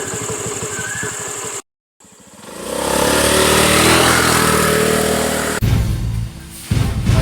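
A motorcycle engine runs close by, idling with a steady throb, then rising into a loud sustained rev before dropping back to a rough idle, with a brief silent gap near the start.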